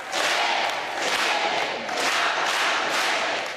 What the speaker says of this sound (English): The crowd erupting into cheers when they see the Pope.